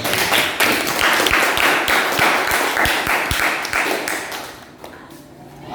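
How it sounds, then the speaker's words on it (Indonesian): A classroom group of students in Indonesia claps for a team, a dense patter of hand claps and taps lasting several seconds before thinning out, with faint murmuring voices beneath. "mari kita beri aplaus kepada kelompok 1."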